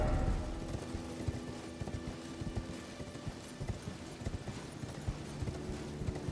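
Horse hooves of a knight's cavalry mount in the video game Elden Ring, on the Altus Plateau: a run of fairly quiet, irregular clip-clop thuds that continues throughout over a soft ambient background.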